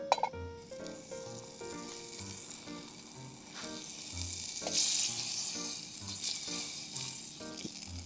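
Butter melts and sizzles in a camping pot holding softened carrots for clam chowder, a soft continuous frying hiss with occasional light utensil clinks and stirring.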